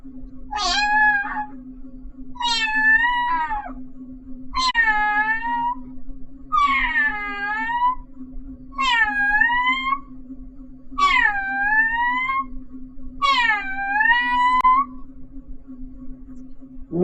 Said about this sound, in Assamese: মেকুৰীয়ে ভাত খোজা মাত